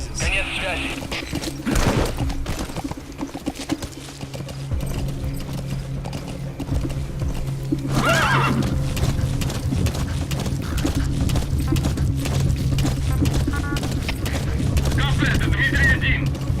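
Horse hooves clip-clop and gallop in Metal Gear Solid V: The Phantom Pain, a continuous rhythmic patter with occasional snorts and mechanical clicks, heard under speech throughout.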